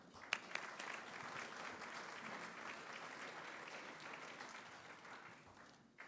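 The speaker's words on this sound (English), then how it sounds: "I'm going to ask you for one more round of applause" An audience at the 2022 Utah Business Green Business Awards ceremony applauds, a sustained wash of clapping from a roomful of people that swells and gently fades, heard from a distance and quite faint.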